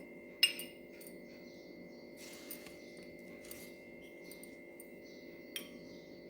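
Spoon clinking against a bowl while onion, red chilli powder and coriander are mixed for a cheese onion paratha filling, a few sharp isolated taps and soft scraping in a quiet room.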